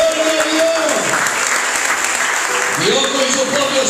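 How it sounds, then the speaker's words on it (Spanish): Loud congregation applause fills a church service on the resurrection of Jesus, a dense, steady wash of clapping with cheering voices mixed in throughout. "Es un fuerte aplauso, Señor"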